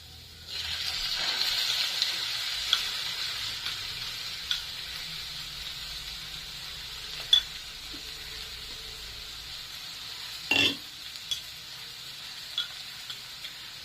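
Steady sizzling of a ground coconut paste for avial frying in a hot pan, with a few sharp clinks and scrapes from a utensil; no voices.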